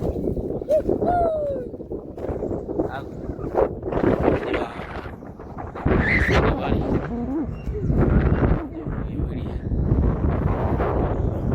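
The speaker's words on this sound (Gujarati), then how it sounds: "તમે ખાલી પવનનો અવાજ ઉપરથી તમે કહી શકો કે કેવો પવન આવતો હશે" Strong wind in Gir, Gujarat roars and buffets the microphone in continuous loud gusts, with a voice speaking intermittently over it.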